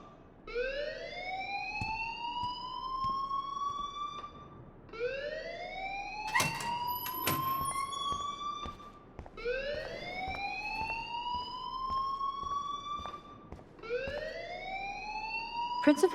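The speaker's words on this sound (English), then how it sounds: "please turn off that alarm since that's your job." An electronic fire alarm sounds in the video game Life Is Strange, repeating rising whoops in a steady cycle of about four seconds, loud and continuous, with a brief clatter midway and faint background voices.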